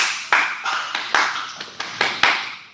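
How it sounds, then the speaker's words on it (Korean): Sharp hand claps of a taegeuk clap at a hapkido class land in a rhythmic pattern, seven or eight distinct hits with brief pauses between them, close and clear. "태극 박수 시작"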